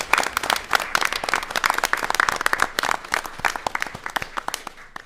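An audience at a school board meeting gives students a round of applause: loud, close, brisk clapping from a modest group, with individual claps clearly distinct and the applause tapering slightly toward the end.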